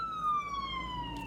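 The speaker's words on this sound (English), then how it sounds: "this ambulance going by" An ambulance siren passes on a New York City street, a steady wailing tone gliding slowly downward as it moves away, moderately distant and faint over traffic hum.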